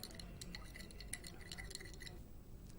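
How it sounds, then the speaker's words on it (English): A glass rod stirring lemonade made of water, salt, sugar and lemon juice in a glass, giving faint, scattered light clinks and ticks against the container over a low steady hum. "Stir it with"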